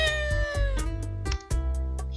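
A black cat in the video game Dandelion meows in a few short, repeated calls over a steady low in-game background hum.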